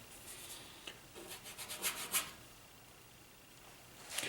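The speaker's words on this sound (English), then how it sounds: "I am doing a lot of just scrubbing here" A somewhat worn, flared paintbrush scrubs paint onto canvas for a landscape painting, giving faint, close bristle rubs in short bursts with quiet stretches between.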